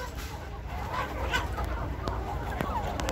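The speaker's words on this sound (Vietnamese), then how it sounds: "Quá trời gà. Gà miền Tây, live." Several Mekong Delta (southern Vietnamese) chickens, mostly crossbred roosters, clucking and calling together in a coop, a steady overlapping chatter at close range with a few sharper calls rising above it.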